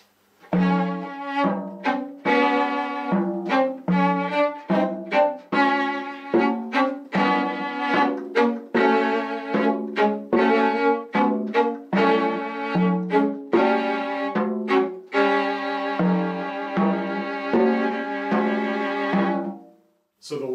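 Viola plays a variation on a theme over pitched drums that form a second melodic voice, with crisp repeated drum strikes and sustained bowed notes in a steady, lively rhythm.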